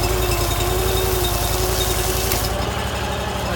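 A RaceJet 5000 water jetter engine runs at a steady idle, a close, loud, continuous mechanical drone with a constant pitch, shifting slightly in tone near the end.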